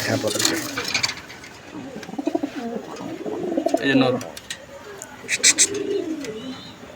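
Several fancy pigeons coo nearby in soft, throaty bursts, mixed with light rustling, clinks and a few sharp chirps as they feed.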